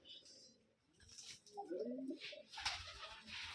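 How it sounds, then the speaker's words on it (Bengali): Rajshahi Giribaz color-matching flying pigeons coo softly in a short burst midway, while people talk quietly around them. "এই যে রাজীব ভাইয়ের কিছু কালার ম্যাচিং কবিতর আছে"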